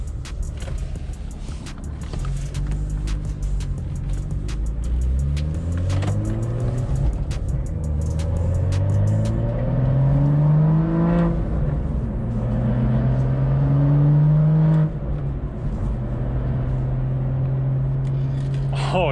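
A BMW M2 fitted with an H&R front lower sway bar drives on the road, its engine note rising and falling through several accelerations and gear changes, loud and close from inside the cabin.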